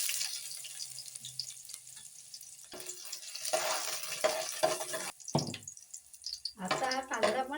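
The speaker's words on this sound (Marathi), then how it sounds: "मी आता फोडणीला कांदा टाकते." Onion dropped into hot oil in a heated pot for tempering, fish curry cooking, with intermittent sizzling bursts and crackles between quieter gaps, fairly faint and close.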